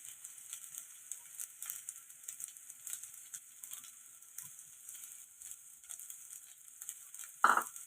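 Egg fried rice with soy sauce and pepper fries over a high flame, giving a faint, steady sizzle that ends with a brief clatter from a toss in the pan.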